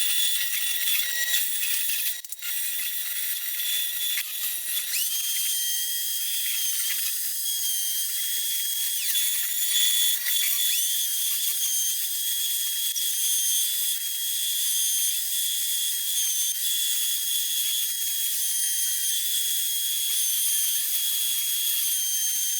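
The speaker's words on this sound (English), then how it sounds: "So we've got one blank cut out, pretty rough right off the bandsaw." A bandsaw cuts out a knife blank in a long, continuous pass, a steady high-pitched whirring rasp with shifting whine as the blade follows the line, no speech over it.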